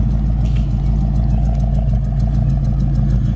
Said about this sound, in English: Great sound and dual exhaust coming out the back, no smoke.